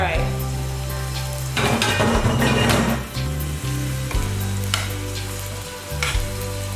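Veggie meat crumbles browning in a hot pan for a vegan taco cornbread casserole, a steady close sizzle and frying hiss with occasional stirring scrapes, continuous throughout with a low background hum.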